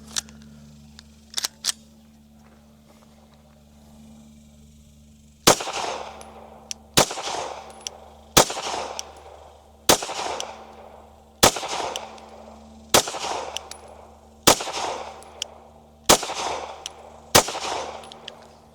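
A Ruger RXM full-size pistol fired at a target, with a couple of faint clicks followed by about ten sharp, loud shots at a steady, unhurried pace, each one trailing off with a short echo, and no talking.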